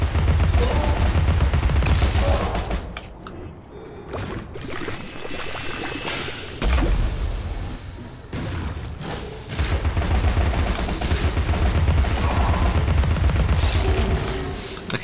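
Heavy booming cannon fire in Alice: Madness Returns, loud and sustained bursts with deep low rumble, brief dip midway then resuming, no voices.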